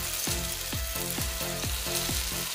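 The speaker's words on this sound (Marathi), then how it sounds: "तेल थोडंसं गरम झालं की आपण तयार केलेले रोल यामध्ये टाकून घेऊ" Pea and raw potato rolls shallow frying in hot oil, a constant close sizzle broken by regular scraping strokes about twice a second, with no talking.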